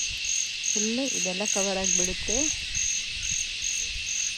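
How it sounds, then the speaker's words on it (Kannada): Insects chirp in a constant, pulsing high-pitched chorus at dusk in the Malnad hills, with a person speaking briefly over it before the chorus continues alone. "ಹುಳಗಳೆಲ್ಲ ಕೂಗ್ತಾ ಇದೆ ಕತ್ಲಾಗ್ತಾ ಬರುವಾಗ ಇದೇ ರೀತಿ ಮಲೆನಾಡಲ್ಲಿ"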